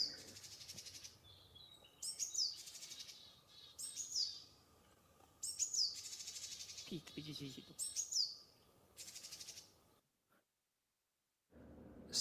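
Japanese tits give alarm and gathering calls in sequence, several short bursts of high chirping notes repeated in clusters, fairly close against a faint outdoor background, with a brief dropout near the end.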